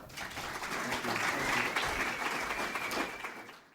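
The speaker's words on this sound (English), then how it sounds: "So a round of applause for Peter Rollins." An audience applauds a speaker at a talk, dense steady clapping from a full room sustained for several seconds before fading out at the end.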